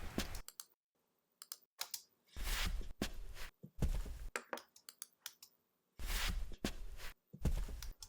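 Layered footstep effects for film sound design, a series of close, crisp steps and scuffs in irregular bursts separated by silence, heard alone.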